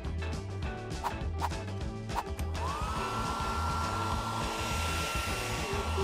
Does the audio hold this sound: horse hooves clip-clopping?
no